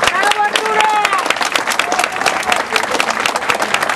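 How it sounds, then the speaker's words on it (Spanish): Loud, dense applause and clapping from a festival audience at a Día del Músico celebration in Tampico, sustained throughout, with a voice speaking over the crowd. "Fuerte el aplauso para él."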